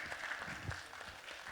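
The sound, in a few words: audience applause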